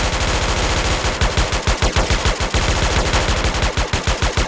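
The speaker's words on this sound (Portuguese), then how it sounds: "Jessica, atira com M4, tenta o dedo neles." M4 rifle fire in GTA San Andreas, a continuous, loud, fast stream of automatic shots at a steady rhythm.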